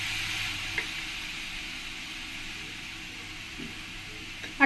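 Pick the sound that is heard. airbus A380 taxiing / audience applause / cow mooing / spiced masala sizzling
spiced masala sizzling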